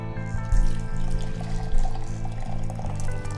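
Hot water pours steadily into a French press with a continuous trickling splash, close and moderately loud, with no talking.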